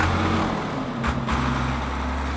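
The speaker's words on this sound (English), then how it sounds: "Farmer Dan started up the big engine." Large tractor engine starting up and running steadily in a workshop, a loud low rumble throughout with a brief burst midway as it catches.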